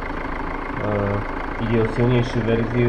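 A 2010s-era Opel Zafira B with a 1.9 CDTi diesel engine rated at 88 kW idles with a steady, low mechanical rumble beneath someone speaking throughout.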